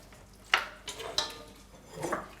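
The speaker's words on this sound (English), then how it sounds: "You give that a little stir." Soup being stirred in a pot after stock is poured in, with a few distinct clinks and scrapes of a utensil against the pot, close and fairly quiet, with no talking.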